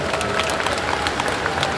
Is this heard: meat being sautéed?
no